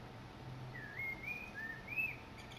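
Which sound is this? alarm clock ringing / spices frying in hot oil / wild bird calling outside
wild bird calling outside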